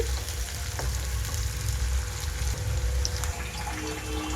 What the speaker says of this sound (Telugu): ఆయిల్ అంతా వే హీట్ అయిన తర్వాత కట్ చేసి పెట్టుకున్న ఉల్లిపాయ ముక్కలు మొత్తం వేసి కలర్ మారే వరకు వేయించుకోవాలి